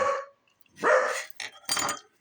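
A dog barks in three sharp bursts near a garage where a 2003 Lincoln Town Car grille emblem is being removed, the barks loud and close with short silent gaps between them.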